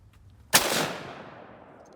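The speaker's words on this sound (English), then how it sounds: "we're just gonna fire one more shot" One Springfield rifle shot: a single sharp, loud crack after a quiet moment, trailing off into a long echoing decay outdoors.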